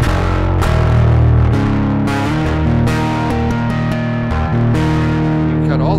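Loud electric guitar through a Suncoast BC3 XL overdrive pedal plays a series of gritty chords and notes, thick and saturated, with a warm, crunchy distortion and no voices.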